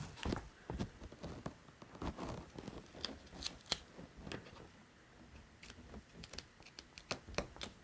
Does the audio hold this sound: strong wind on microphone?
no